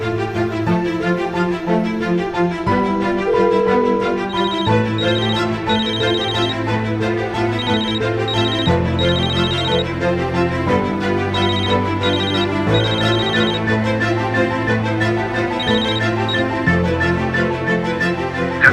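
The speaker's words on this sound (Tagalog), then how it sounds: "Subukan natin, baka sakaling sagutin kapag ako tumawag." A mobile phone ringtone plays loudly and continuously while an outgoing call waits to be answered, a repeating melodic pattern that carries on alone without voices.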